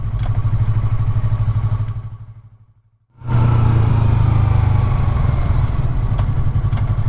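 A 2019 Yamaha R3 motorcycle is ridden past: a loud steady engine drone fades briefly into near silence, then the rumble cuts back in strongly and carries on close.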